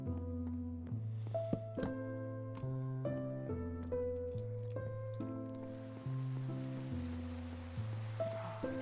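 Rain falling in the Minecraft video game, a soft hiss of rain that swells in the later part, heard beneath a plucked in-game music melody.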